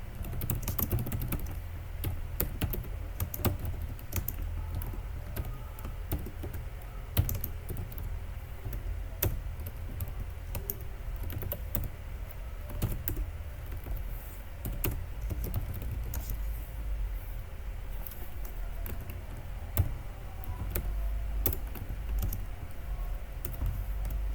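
Code being typed on a computer keyboard, with continuous close-up key clatter and occasional louder strikes, no voices.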